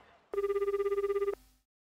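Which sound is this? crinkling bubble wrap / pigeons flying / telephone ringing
telephone ringing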